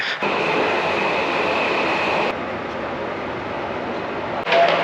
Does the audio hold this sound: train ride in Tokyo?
yes